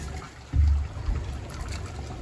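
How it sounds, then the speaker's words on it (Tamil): Tamarind water is poured into paruppu rasam, a brief, soft liquid splash that swells after a quiet start, then settles into a faint trickle. "புளியையும் ஊற்றிட்டேன்."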